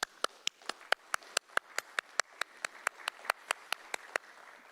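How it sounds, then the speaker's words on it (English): Audience at a city council meeting clapping in a steady run of sharp, evenly spaced claps, moderately close and clear, with no talking over it. "So if everybody could give staff a hand of applause for what they did."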